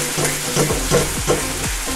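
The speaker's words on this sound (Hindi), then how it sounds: "इसको हम तेल में डाल देंगे" Ginger, garlic and green chili paste fries in hot oil over medium heat, a steady close sizzle with a few soft scraping stirs and faint metallic taps, no voices.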